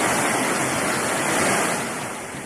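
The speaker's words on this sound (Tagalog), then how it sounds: "Tumindi ang ragasan ng tubig mula sa falls na yan sa may High Laguna." A waterfall in High Laguna roars after heavy rain, a dense, loud, unbroken wash of water noise with no voices.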